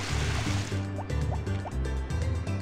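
Watering crops in the Harvest Moon video game: a short series of soft, bubbly liquid-pouring blips repeating in a steady rhythm, close and fairly quiet, with no talk.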